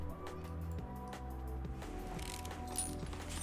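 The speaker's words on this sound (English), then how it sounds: "Alright, now we'll get the U-bolts off." A ratchet clicks rapidly as U-bolts are undone on a vehicle's leaf-spring suspension in Car Mechanic Simulator 2018, quiet repeated mechanical ticks over a low steady hum.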